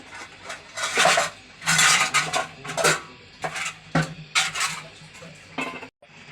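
Metal lid set onto a pot of cooking rice, several loud close clattering scrapes and bangs of metal on metal in uneven bursts, with no voices.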